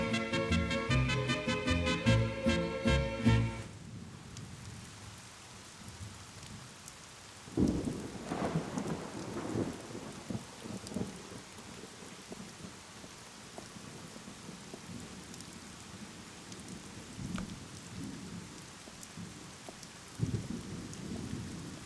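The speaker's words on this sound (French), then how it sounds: "Tu aimes regarder la pluie tomber?" Steady rain falls while thunder rolls in with a heavy crack and rumbling bursts, loud and close, then fades back under the constant patter of rain.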